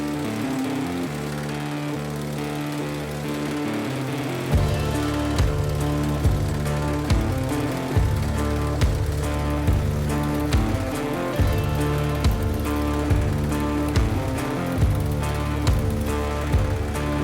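A power hammer shrinks a sheet metal roof panel with fast, steady mechanical pounding after a brief lower-pitched idle, the beat shifting slightly as the panel moves.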